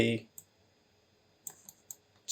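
Several sharp computer keyboard clicks sound close and faint, spaced irregularly, after a brief bit of a voice at the start.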